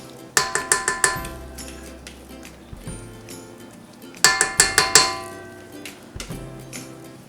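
Soap icing set into a KitchenAid mixer bowl, making a burst of sharp clinks and taps against the bowl, a pause, then another quick cluster of knocks, close and fairly loud with no talking.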